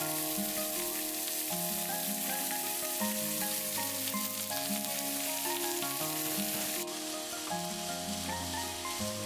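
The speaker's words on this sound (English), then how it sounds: "so I'll stir frying all the ingredients together at the same time" Loud, continuous sizzling of pork and vegetables stir-frying in a hot pan, crackling steadily throughout with music playing underneath.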